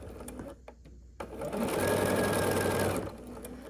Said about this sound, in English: So I'm just going to sew along this side here.